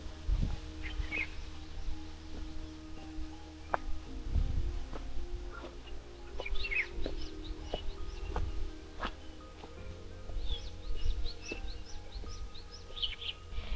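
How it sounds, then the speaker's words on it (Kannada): Scattered bird chirps and short twittering calls sound at a distance in a Kanthalloor forest near a waterfall, over a soft, steady outdoor background with a few faint knocks. "ನೀರು ಹರಿಯುತ್ತಿರುವ ಶಬ್ದ ಹಾಗೆ ಹಕ್ಕಿಯ ಚಿಲಿಪಿಲಿ ನಾನು ನೀವಿಲ್ಲಿ ಕೇಳಬಹುದು"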